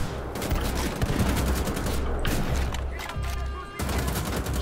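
Rapid bursts of gunfire from the shooter game Wolfenstein: The Old Blood, dense overlapping shots with heavy low thumps, loud and continuous with a brief dip near the end.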